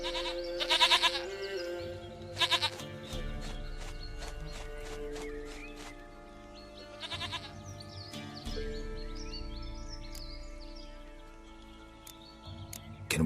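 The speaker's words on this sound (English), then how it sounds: "Goat of mine, dearest, sweetest goat." A goat bleats in The Witcher 3 over a game music score, with loud clustered bleats near the start and scattered quieter calls later, mixed with background game sounds.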